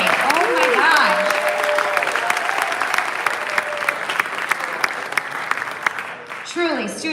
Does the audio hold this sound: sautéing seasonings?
no